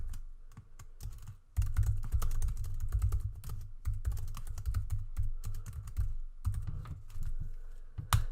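Close, rapid keystrokes on a computer keyboard clatter in uneven runs with brief pauses while text is entered.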